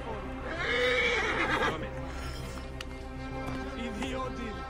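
A horse whinnies loudly while being ridden in Assassin's Creed Origins, the neigh rising near the start before hoof clip-clops and game ambience continue underneath.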